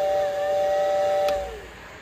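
A small model steam train whistle at a model railroad museum toots a steady high note, then drops away into a soft hiss, close and fairly loud.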